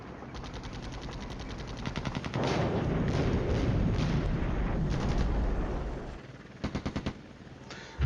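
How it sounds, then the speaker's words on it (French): Artillery fire in the Cold War video game Flashpoint Campaigns: rapid bursts of gunfire give way to a long, heavy rumbling barrage, followed by a few sharp closing shots. "tout ce qui progresse se fait taper par l'artillerie"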